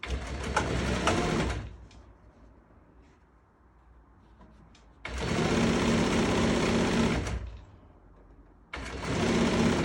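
A sewing machine stitches upholstery fabric for a bed in loud, close bursts of rapid whirring, separated by quiet pauses for repositioning the material.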